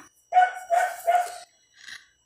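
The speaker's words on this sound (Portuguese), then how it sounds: "ignore o barulho de cachorro" A dog barking nearby in the background, three quick barks in a row followed by a softer fourth, with nothing else heard.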